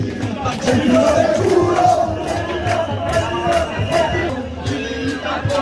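A dense crowd of protesters in Italy roars and shouts in a steady, loud wash of voices close around, with rhythmic surges of yelling.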